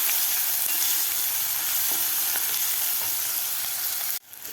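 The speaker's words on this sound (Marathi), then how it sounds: "यामध्ये घालायचा आपल्याला कांदा. कांदासुद्धा 1 ते 2 मिनिट आपल्याला परतून घ्यायचा आहे." Onion sautéing in a pan with curry leaves and chilli for an amla dal tempering, a bright, steady sizzle with faint stirring, close and alone, cutting off abruptly near the end.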